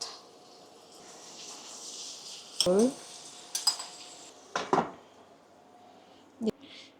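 Pork being stirred with oil in a pan, with a few sharp clinks of a utensil against the pan over a low, steady background, no talk in the moment.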